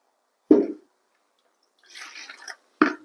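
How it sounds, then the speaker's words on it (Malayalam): Water splashes in short bursts into a plastic waste bucket repaired with a petrol and thermocol glue, with quiet gaps between the pours. "ഇതിലേക്കൊന്ന് വെള്ളം ഒഴിച്ചു നോക്കാം"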